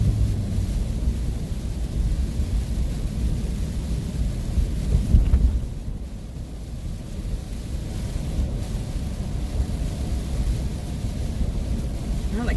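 Tropical Storm Beta brings heavy rain drumming on an RV driven with no windshield wipers. A deep rumble of thunder swells near the middle of the steady, loud wash of rain and wind.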